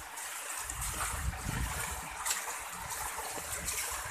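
Floodwater rushing steadily through flooded ground in Kanjirapally, Kerala, a continuous broadband wash with a low rumbling undertone and occasional splashy surges, close and fairly loud with no voices.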